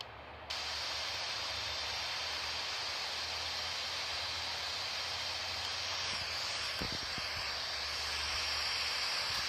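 Boeing 737 MAX 8 jet engines climbing after takeoff in a flight-simulator game, a loud continuous broadband roar with a steady hiss, unbroken throughout apart from a few brief low knocks near the end.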